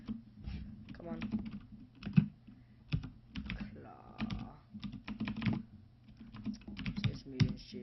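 Fingers tapping a computer keyboard in quick uneven bursts of clicks, close and fairly quiet, while someone talks intermittently over the keystrokes.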